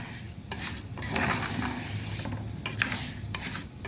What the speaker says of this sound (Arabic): هنكب بقى عليها الرز التاني.